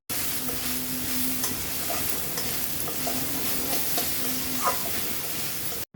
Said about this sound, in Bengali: তো নারিকেলটা কিছুক্ষণ ভেজে নিছি,